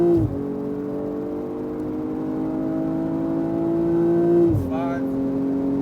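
A BMW M240i pulls hard on the Dubai Autodrome track, its engine note holding a steady, rising drone before a gear change drops the pitch and it climbs again; an instructor talks over the engine throughout.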